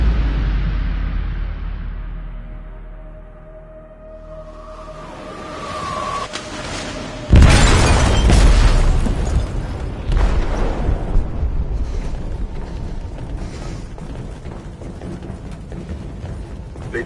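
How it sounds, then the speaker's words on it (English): An explosive detonates in a ship's hold in Detroit: Become Human: a sudden, loud, close blast breaks through a low mechanical hum and rising whine, then gives way to a long, dense rumble and crackling debris, with no voices. "They detonated an explosive in the hold."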